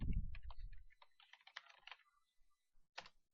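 Keys on a computer keyboard clatter in short, irregular bursts of typing, close and fairly quiet, with brief pauses between clusters and a final isolated keystroke.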